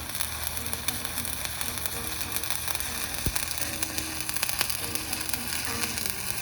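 Stick welding arc with 6010 and 7018 rods crackling and sizzling steadily up close, a continuous hissing buzz dotted with sharp pops and spatter snaps.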